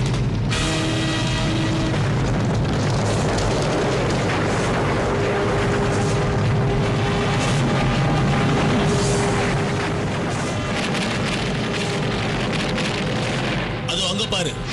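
A cartoon volcano erupts with a sustained roaring, rumbling blast and crackling bursts of debris, loud and continuous throughout, with voices and music-like tones over it.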